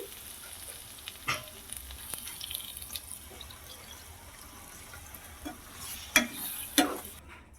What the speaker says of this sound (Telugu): సో ఇప్పుడైతే కొంచెం వాటర్ యాడ్ చేసుకుందాము